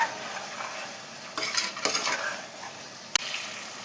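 Tomatoes being stirred in a pan for chicken dum biryani: a few brief scraping strokes of a utensil against the pan over a low background hiss, with one sharp clink near the end.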